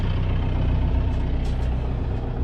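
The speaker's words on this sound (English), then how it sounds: "we'll just use the engine" A sailboat's inboard engine runs steadily under motor on a passage from Falmouth to Fowey, a loud continuous low drone and rumble with no speech over it.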